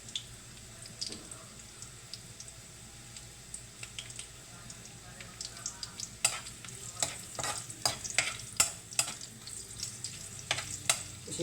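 Garlic browning in oil in a pan, a soft continuous sizzle with sharp clicks and scrapes of stirring growing more frequent toward the end.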